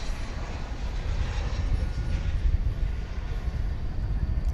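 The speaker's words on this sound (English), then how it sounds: "It's an Airbus A321. And it's coming from Seattle." An Airbus A321 airliner arriving from Seattle at Dallas Fort Worth airport at night makes a broad, steady jet rumble that swells slightly and holds, moderately loud, with no voices over it.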